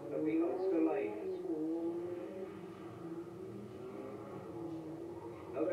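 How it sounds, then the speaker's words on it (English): A Group N Ford Sierra Cosworth rally car drives on narrow country lanes at a 1991 rally in Ulster, its engine droning and revving steadily at a moderate distance while a commentator talks over it. "Another Group N Ford Sierra Cosworth, David Maslin"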